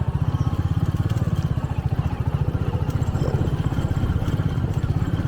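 A motorcycle engine chugs steadily and loudly with a rapid, even pulse, joined by rattling and clatter as it rides over rough, dusty off-road ground.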